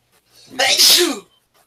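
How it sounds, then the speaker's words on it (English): A single loud, close sneeze bursts out sharply and fades quickly, with quiet before and after. "Gesundheit."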